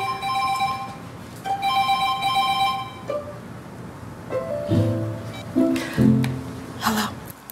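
A mobile phone rings with a repeating electronic ringtone, bursts of bright tones for about three seconds, then a lower melodic phrase repeated several times, fairly close and clear.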